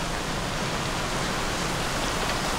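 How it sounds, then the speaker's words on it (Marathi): Steady, dense rainfall in Panvel, Maharashtra, a close, even hiss of drops that holds without a break and carries no voices. "मस्त आहे, मस्त आहे पाऊस, मस्त आहे."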